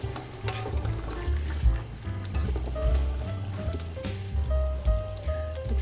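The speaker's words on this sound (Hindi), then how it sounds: "अब इसमें मैं शामिल करूंगी 2 टेबलस्पून पिसा हुआ अदरक, तकरीबन 10 मिनट के लिए मैं इसको अच्छी तरह से भूनूंगी।" Beef trotters frying with ground ginger in a pan, a steady close sizzle with crackling bursts running throughout and no voices.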